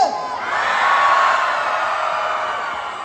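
A crowd shouts and cheers loudly at an RBD event launching a Smirnoff bottle, a sustained roar with whoops rising after a moment and holding steady.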